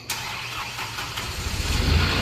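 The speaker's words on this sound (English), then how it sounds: "There's your engine coming to life." A 2015 Moffett M8 truck-mounted forklift engine cranks and catches, settling into a loud, close rumble that builds slightly as it comes to life.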